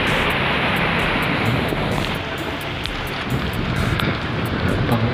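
Rushing floodwater left by Typhoon Paeng in Liliw or Magdalena churns in a loud, continuous broadband roar, buffeted by heavy wind noise on the microphone.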